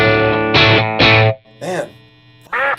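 Fender Stratocaster electric guitar through an amp with a Klon KTR pedal switched off, loud close distorted chord stabs in quick bursts, then short bent notes and pauses.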